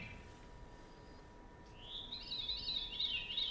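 A thin, fluttering veery song spirals downward in pitch, rising out of quiet outdoor hiss and fairly faint.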